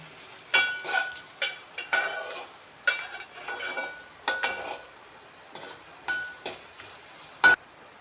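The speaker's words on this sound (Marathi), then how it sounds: "ढवडत राहायचं चांगला कांदा भाजेपर्यंत ढवडत राहायचं" Onion frying and being stirred in a pan for a jackfruit-seed vegetable dish, with repeated scraping strokes and clinks of a spoon against the pan over a steady soft sizzle, close and fairly loud.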